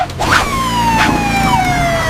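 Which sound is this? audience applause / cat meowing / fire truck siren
fire truck siren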